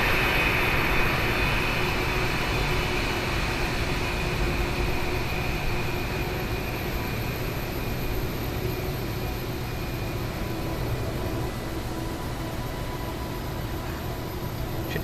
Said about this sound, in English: when I passed the other jet, he was kind of loud